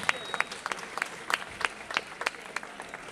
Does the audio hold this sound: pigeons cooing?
no